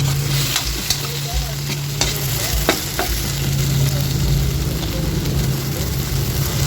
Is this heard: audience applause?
no